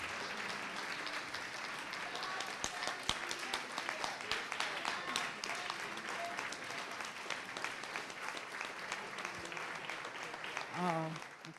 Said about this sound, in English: Let's give another big applause and thank you to Sahar.